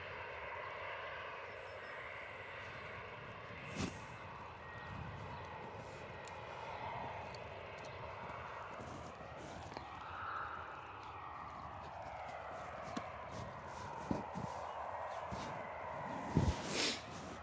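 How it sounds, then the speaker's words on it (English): A Ryanair Boeing 737 taxis at Bristol Airport in wet, windy weather, its jet engines a steady distant whine and rumble with a rising swell midway, under rain and wind noise with a few sharp knocks. "Sounds like our Ryanair Boeing 737 is taxiing on Zulu 4, which it is."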